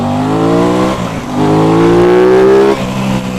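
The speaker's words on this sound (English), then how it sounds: "That exhaust sounds lovely" An Aprilia RS660 sport motorcycle exhaust rises steadily in pitch as it accelerates, loud and close, with a brief dip near the middle before it climbs again and then eases off.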